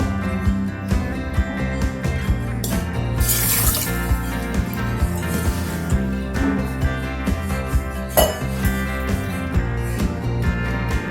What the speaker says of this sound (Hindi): तो मैं इसे वाटर ऐड कर देती हूँ 4 कप।